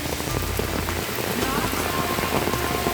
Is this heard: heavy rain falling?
yes